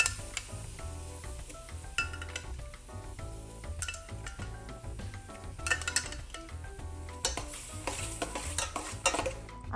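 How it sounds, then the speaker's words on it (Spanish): Octopus and mussels sauté in a pan for a Colombian seafood casserole, with a steady sizzle, stirring, and frequent clinks of a utensil against the pan throughout, with no talking. "Y vamos a colocarle el pulpo, los mejillones, todo lo que trae el paquete para saltearlos un poco."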